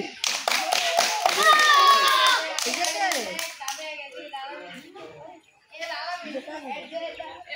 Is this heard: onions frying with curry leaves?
no